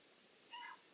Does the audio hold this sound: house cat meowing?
yes